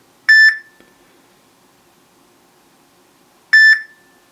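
A No.1 S3 smartwatch giving two identical short electronic alert chirps, each a quick double beep, loud and close, separated by about three seconds of near silence.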